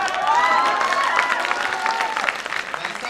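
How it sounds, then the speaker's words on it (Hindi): Steady applause with some cheering from a crowd at a poetry recital on a patriotic theme, moderately loud and continuous, with a few voices calling out over it. "आप खड़े हो के तालियां बजा रहे"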